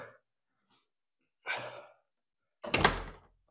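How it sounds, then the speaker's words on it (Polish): A door closes inside an abandoned baroque manor, a short solid thud after a few faint shuffles and creaks in an otherwise quiet, empty room. "zamkniemy za sobą drzwi"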